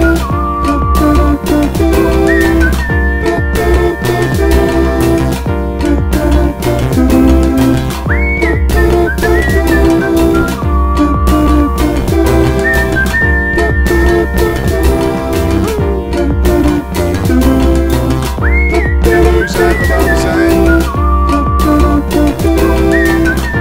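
Someone whistles a few short melodic phrases over loud, dense music that plays continuously throughout.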